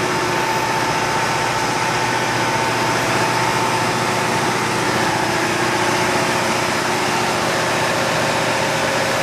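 Generators running in a ship's engine room, four units with three usually in use, make a loud, steady mechanical drone with a constant hum and vibration throughout, hot and noisy close up, with no talking.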